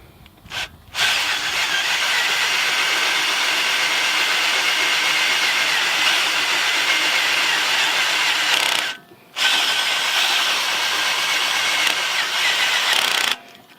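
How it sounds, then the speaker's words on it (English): An old electric drill runs steadily while tapping threads into pipe steel, a loud continuous whirring grind that stops twice briefly, at about one second and again near nine seconds, before restarting. "Getting to be an old drill is what this is getting to be."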